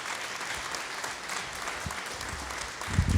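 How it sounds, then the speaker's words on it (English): Steady audience applause at a school modernization project meeting, a dense even patter of many hands throughout, swelling a little louder near the end. "Can we give them a big round of applause?"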